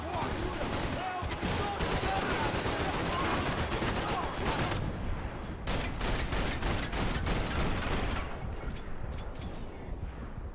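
Continuous rapid gunfire at a shooting range in Max Payne 3, loud and dense for several seconds, then breaking into distinct sharp repeated shots toward the end, with a voice speaking briefly beneath.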